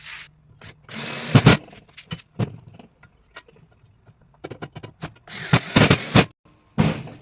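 A power drill drives 3/4 inch self-tapping screws into the frame of a grill deck in short, loud whirring bursts of varying length, separated by quieter handling noises and pauses.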